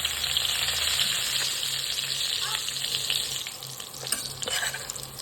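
Garam masala, onion-garlic masala, homemade masala, turmeric and chili powder frying in hot oil with coriander for a dhaba-style whole masoor curry, a loud continuous sizzle with stirring scrapes and no talking.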